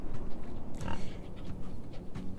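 Pigs oink in the farming game Farm Together, a few short snorting grunts over a steady low game background.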